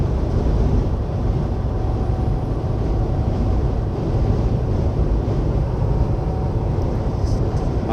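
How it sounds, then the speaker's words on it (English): High wind blows around an empty truck trailer on the road, a constant loud rushing roar with heavy low buffeting that continues unbroken throughout. "the wind's just kind of going around it"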